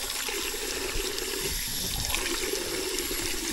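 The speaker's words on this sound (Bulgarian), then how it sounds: "една чешма до северната порта, съвременна" Water runs steadily from a modern stone drinking fountain by the ancient northern gate of Amphipolis, a continuous close splashing trickle with no talking.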